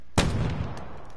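A single sharp shotgun blast in Call of Duty Black Ops 4, loud and close, with a short rumbling tail.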